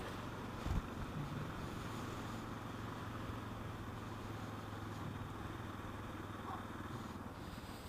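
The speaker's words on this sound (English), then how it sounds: "that wind just feels fantastic" Wind rushes past a motorcycle rider wearing a GoPro Hero 4 Black, producing a low, steady buffeting rumble mixed with faint engine drone, quiet and continuous throughout.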